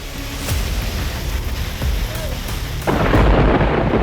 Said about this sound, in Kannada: ಆಲಿಕಲ್ಲು ಸಹಿತ ಜೋರು ಮಳೆಯಾಗ್ತಿದ್ದು